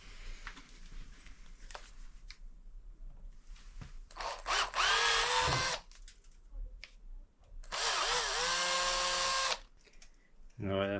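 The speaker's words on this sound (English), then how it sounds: "I'm going to drill out the bars for a clearance hole" Drill boring a clearance hole through motorcycle handlebars on a 1928 Velocette KNS, heard as two whining bursts of a few seconds each with lighter tool handling in between, recorded in a quiet workshop.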